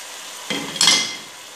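Chopped onion tipped into a hot pan for bolognese sauce: a sudden burst of sizzling that swells and then settles into a steady fry, close and loud, with no talking.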